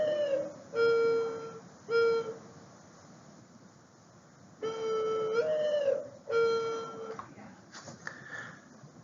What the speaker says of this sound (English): The mourning dove is a common bird species observed throughout the landscape and has